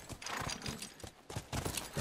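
Horse hooves clip-clopping in The Last of Us Remastered, a steady rhythmic series of fairly close hoof strikes with a possible faint whinny, no talk over them.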